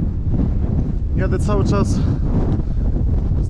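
Strong wind on a coastal road batters the microphone of a touring cyclist, a loud, constant low roar and rumble; someone briefly speaks over it partway through.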